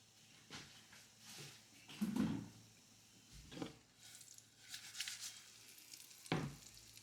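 A large sole frying in oil in a pan, browning on both sides, a quiet close sizzle with intermittent crackles and louder spits as the fish is moved, with no talking.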